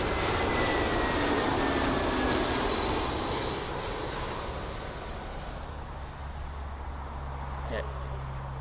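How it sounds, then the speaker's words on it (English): A British Airways Airbus A319 in retro livery, in from Aberdeen, lands at London Heathrow, its engine roar loud at first and gradually easing off, while people talk over it. "we've got the British Airways BA Retro livery, A319, in from Aberdeen"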